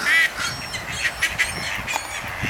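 Ducks and seagulls calling together at a bird-feeding spot, a cluster of bright squawks and honks close by, loudest at the start and then scattered through the rest, with no talking.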